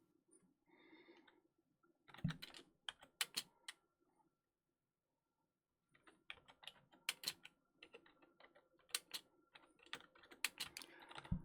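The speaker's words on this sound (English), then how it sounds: "I don't type and talk well at the same time" Bursts of rapid typing on a computer keyboard, close and clear, with dense clicks in several runs separated by a short silent pause.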